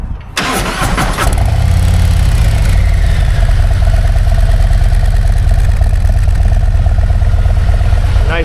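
A stock 2025 Harley-Davidson motorcycle engine cranks briefly with the starter and then fires into a loud, close, steady rumbling idle with an even lumpy beat.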